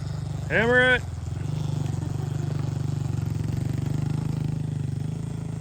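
A Honda CRF110 pit bike with a big-wheel build revs hard while being ridden, its engine pitch climbing sharply in a short loud burst before settling into a steady, low, buzzing drone.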